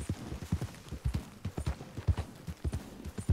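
Horse hooves clip-clopping at a steady trotting rhythm in the video game Red Dead Redemption 2, close and clear with no talk over them.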